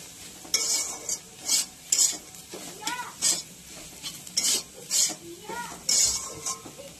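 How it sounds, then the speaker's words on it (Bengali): Turmeric and salt being fried in a pan for a breakfast dish, with repeated scraping stirs in irregular bursts over a low sizzle, close up and without talk. "তারপরে আমি এটাকে ভালো করে ভাজবো"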